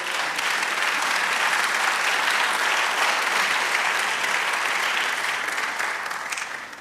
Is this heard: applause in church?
yes